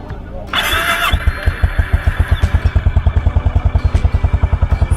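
A Honda Highness CB350 motorcycle in freezing snow cranks on the self-starter and fires up, then settles into a loud, close, evenly thumping single-cylinder idle.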